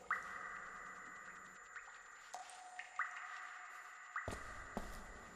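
Drips of water echoing through a cave in the game Scanner Sombre, a few bright pinging drops falling at irregular moments over a soft steady drone, moderately close and clear.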